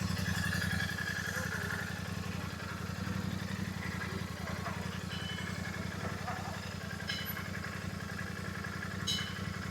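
A motorcycle engine idles steadily while the bike is moved into a parking spot near a homestay in Mukteshwar, a low continuous throb running throughout with voices talking over it.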